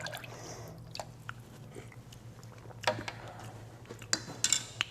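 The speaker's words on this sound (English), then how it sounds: "Give it a good stir, get that horseradish broken up" A Bloody Mary with horseradish is stirred in a glass, giving faint scattered clinks and taps of a utensil against the glass that grow busier toward the end, with no talk over it.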